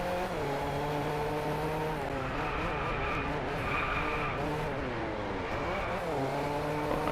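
A race car in the video game Driveclub, on a Chilean point-to-point track, brakes hard and skids, tires squealing over a droning engine that shifts pitch throughout.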